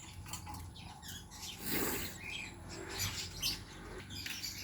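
Lovebirds and pigeons in an aviary at feeding time give scattered soft chirps and brief calls, faint and intermittent over a low background hum, with occasional fluttery rustles and no talk.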